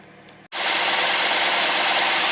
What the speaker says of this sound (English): now engine is running very smoothly, and look, no any vibration